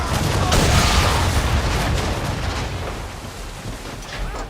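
Cannons firing in Assassin's Creed III during a naval battle, loud booming blasts with dense low rumble and crackling debris, one heavy report early then rolling, fading reverberation.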